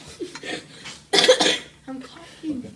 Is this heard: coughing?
yes